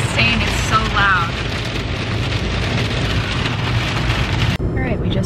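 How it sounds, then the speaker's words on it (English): Heavy rain drums loudly and steadily on a car during a drive from Rome toward the Amalfi Coast, a dense roar with occasional squeaks, cutting off abruptly near the end. "This rain is insane, it's so loud."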